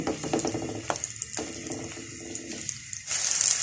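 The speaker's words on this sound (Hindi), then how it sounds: "यहाँ इसको मैं फ्राई कर लूंगी। ब्राउन होने तक इसको फ्राई करना है।" Okra coated in besan (gram flour) is lowered into a pan with clinks and clatters, then bursts into a loud, hissing sizzle of frying near the end.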